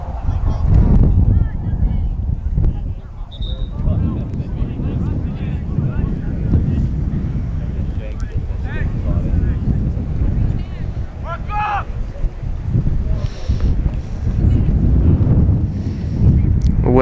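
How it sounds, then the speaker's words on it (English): Heavy wind buffets a microphone outdoors at a high school football game, a steady low roaring rumble that fills the whole stretch, with faint voices and crowd sounds underneath. "Wind is picking up here."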